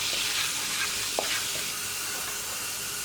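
Coriander powder and salt get stirred in a hot frying pan, giving a continuous close sizzle with light scraping and a few small pops.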